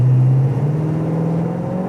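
A cold 1966 Ford Mustang Coupe engine, not yet warmed up on a chilly morning, hums at a steady idle and then rises gently in a short rev. The sound is close and continuous, with no talking over it.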